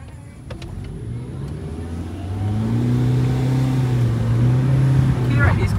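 Car engine revving and rising in pitch as it launches in the Forza Horizon racing game, a steady loud roar climbing through the gears with faint voices underneath.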